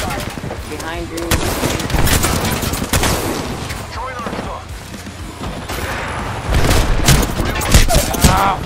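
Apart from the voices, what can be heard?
gunfire in a first-person shooter video game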